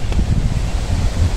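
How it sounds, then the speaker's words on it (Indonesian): Strong wind blows through forest near a bird feeding spot, a steady loud roar of gusts and rustling that fills the short stretch with no voices. "Dan hari ini angin cukup kencang"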